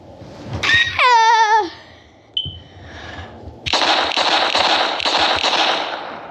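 Cartoon-style gunfire effects in an animated comedy: a squealing warbling zap, a short sharp blip, then a long rapid burst of dense crackling shots like machine-gun fire, loud and close with no talk.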